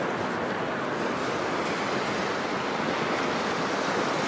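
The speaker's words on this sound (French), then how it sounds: "Il y a un peu de vent, mais on est bien là." Steady wind and surf wash on a sandy beach, a continuous broadband roar with gusty buffeting against the microphone and no distinct individual wave breaks, loud and constant throughout.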